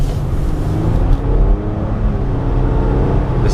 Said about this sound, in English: Listen to that engine though.